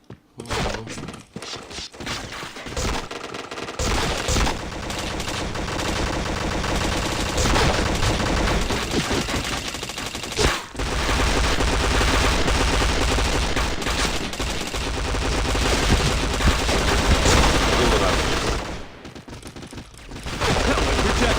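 Rapid bursts of gunfire from a shooting video game run almost without a break, dense and loud, with a few brief gaps.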